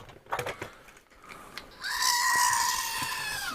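Goats on a farm give a long, drawn-out bleat that rises suddenly and holds steady for nearly two seconds, after a stretch of quieter scuffling background noise.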